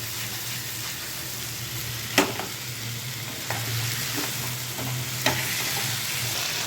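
Thick curd frying in ghee in a pan, with a steady low sizzle and occasional sharp scrapes of a spoon stirring against the pan, close and without talking.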